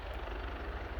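Helicopters at Aberdeen airport give a low rhythmic rotor thump, steady and fairly distant, mixed with wind noise on the microphone.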